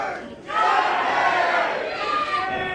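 Wrestling crowd at a Glory Pro casket match roaring and chanting a wrestler's name together, a loud, sustained mass of voices that swells after a brief lull.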